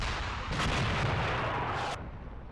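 Heavy 88mm guns firing in the WWII tank game Graviteam: Fateful Strike, a loud booming burst of artillery that swells and rolls for over a second before cutting off into a quieter rumbling tail, with no voices.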